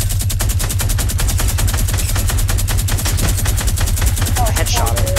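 Rapid automatic gunfire in a shooter video game, a dense, steady stream of loud shots with no gaps, played alone over a low hum.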